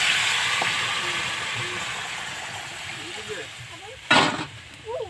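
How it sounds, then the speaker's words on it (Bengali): Hot water poured into taro curry sizzling in a pan, a steady frying hiss broken by a short, louder splashing burst near the end. "এবার আমি গরম জল দিয়ে দিই।"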